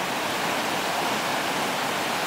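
White river rapids rush in a steady, broadband roar of churning water, constant and fairly loud with no pauses and no voices over it.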